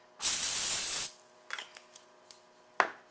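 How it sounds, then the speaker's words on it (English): A short hissing burst of non-stick cooking spray onto a warm pan lasting about a second, followed by a few light clicks and taps of handling. "I'm going to do a quick non-stick spray"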